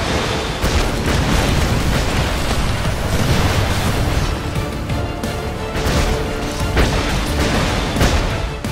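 Constant explosions and crashing bursts from The Expendabros video game, dense and loud, with repeated booming impacts layered over one another throughout.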